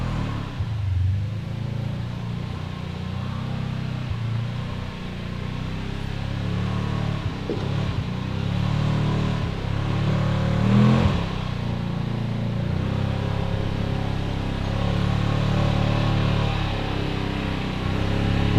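A CFMOTO Z-Force 950 side-by-side on 35-inch tires runs on an off-road trail at Windrock, its engine droning steadily with gentle revving and rumble throughout, close and continuous, no talking.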